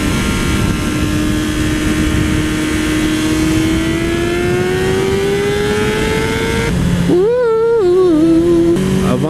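A 600cc sport motorcycle engine, a Honda CBR600RR or Suzuki GSX-R600, climbs in a long loud rising whine under wind roar, then bounces at the rev limiter with a warbling stutter before settling.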